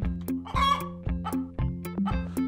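Video game chicken clucking in repeated short bursts, loud and close, with a rhythmic series of squawky clucks and no talking.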